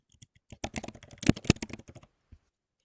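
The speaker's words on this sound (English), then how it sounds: "I am typing in a couple of different things" Fingers type on a computer keyboard in a quick, irregular burst of crisp clicks, close and clear against near silence, trailing off with a single late keystroke.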